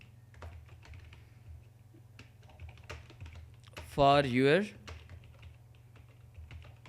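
Soft, scattered keystrokes on a computer keyboard, typed during a CorelDraw session, tick quietly over a low electrical hum, with a brief spoken phrase midway.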